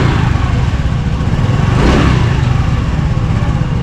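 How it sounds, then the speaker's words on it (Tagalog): Honda Navi 110 scooter engine running at a steady idle, a continuous close mechanical drone with slight chain noise and no talking. "Ito yung andaran guys ng Nabi natin"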